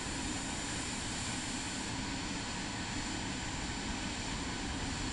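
Airplane taxiing in Microsoft Flight Simulator 2024 on PS5, a steady, dense engine drone with a faint high whine, continuous and even throughout.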